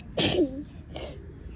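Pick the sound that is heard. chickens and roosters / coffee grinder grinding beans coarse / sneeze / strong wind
sneeze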